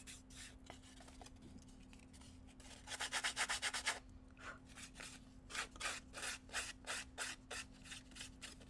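Sandpaper rubs over very soft wood in rhythmic back-and-forth strokes, starting quiet and scattered, then a run of quick strokes, then steadier passes, all close and fairly faint with no voices.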